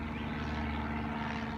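Airplane passing overhead as a steady, broad engine roar that fills the background, continuous and moderately loud with no voices.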